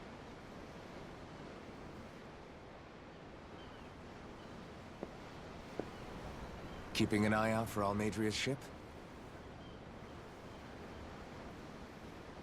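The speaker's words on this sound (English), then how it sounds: "The ocean? Yeah. The waves. They help me think." A steady wash of ocean waves in the video game Tales of Arise fills the scene, a soft, continuous surf noise with a short spoken line partway through.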